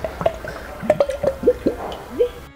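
Water pours from a jug into a glass in a series of bright glugging chirps and drips, each a short rising squeak, spaced irregularly and close.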